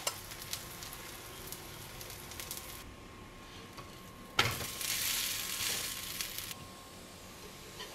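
Wheat roti cooks on a hot pan with a steady sizzle and faint crackle, swelling into a louder burst of frying midway before settling back to a gentle hiss; no one speaks.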